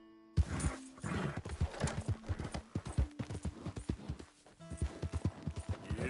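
Rhythmic hoofbeats of a horse galloping in Red Dead Redemption 2, loud and close with steady clip-clop rhythm throughout, a brief whinny, and a rider calling out over the pounding hooves.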